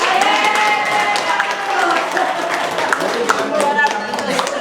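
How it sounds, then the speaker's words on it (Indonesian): Classroom applause for a pupil at an Indonesian primary school, a few dozen hands clapping fairly close and uneven, with voices chattering over and between the claps. "Ya tepuk tangan lagi buat dia"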